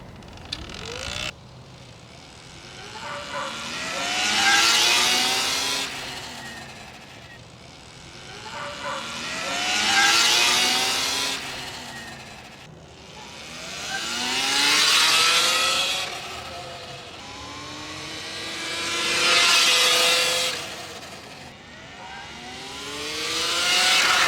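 A chain-drive Sur-Ron electric dirt bike runs through repeated accelerations, each a rising, whining motor sweep that swells and fades about every five seconds. The bike is heard fairly close, with no voices.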